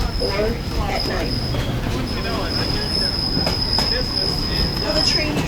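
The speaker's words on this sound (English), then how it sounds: "the train is going to take a sharp turn to the left." Steady, high-pitched squeal of the 1880 Train's wheels on a sharp turn in South Dakota, loud and sustained throughout, over rumbling rail noise and occasional clacks.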